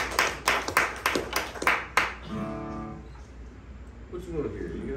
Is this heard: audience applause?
yes